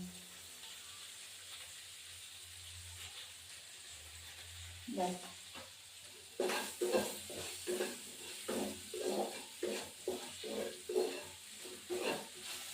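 A spoon scrapes and stirs tengra fish curry in a pan, making a quiet hiss at first, then a run of rhythmic scraping strokes with a soft sizzle under them, close by.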